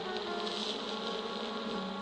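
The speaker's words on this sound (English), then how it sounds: "James's reply was drowned by the sound of buzzing." A swarm of bees buzzes continuously and loudly, a dense, steady drone close by with no voices over it.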